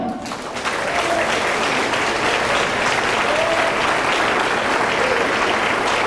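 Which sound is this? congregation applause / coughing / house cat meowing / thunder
congregation applause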